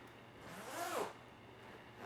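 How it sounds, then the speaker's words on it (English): Close, quiet zip as a zipper closes along a sewn boxed cushion cover, a single smooth pull of about a second that swells and fades. "And zip it up."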